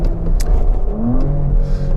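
A 2018 Porsche Cayenne S with a 2.9-litre V6 set to Sport Plus mode hums at steady revs around 4,000–5,000 rpm, a loud, continuous, close-up engine drone with a slight rise in pitch and no speech.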